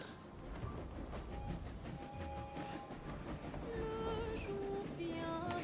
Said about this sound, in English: let me try taking this train back up